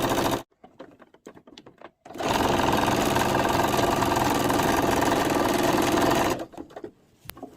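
A sewing machine stitches elastic onto a fabric skirt waistband, a loud steady mechanical whir running for about four seconds after a few brief starts, then slowing to a stop.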